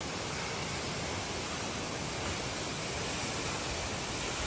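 Roaring waterfall high in Tibet, a dense, steady rush of falling water filling the whole clip with constant broadband noise, close and loud with no voices.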